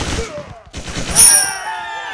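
Gunfire in the Roblox game Commander Simulator comes as a quick burst of rapid shots, then a brief pause and further firing, followed by a bright electronic game tone that fades out.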